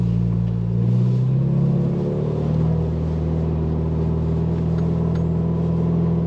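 A 2023 Ford Bronco Heritage crawling slowly off road: a steady, loud low engine drone with a slight rise in pitch early on, then holding an even idle-like hum, with no voices.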